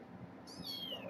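A small kitten gives a single thin, rising meow, near and fairly soft, over faint room noise.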